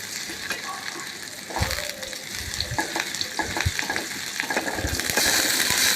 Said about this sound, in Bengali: পেঁয়াজটা একটু লাল লাল করে ভেজে নিতে হবে, যাতে পেঁয়াজের কাঁচা গন্ধটা না থাকে।